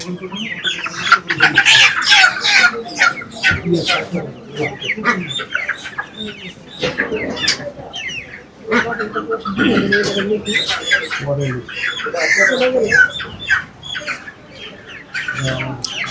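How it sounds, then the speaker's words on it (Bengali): Sonali chickens cluck and squawk close by, mixed with people talking loudly over them. "একটা কালার বার্ড বের করো, একটা সোনালী মুরগি বের করো।"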